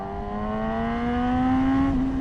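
A Yamaha R6 sport bike rides in traffic, its engine note climbing steadily in pitch as it revs up, then dipping slightly near the end. The whine is loud and continuous over road noise.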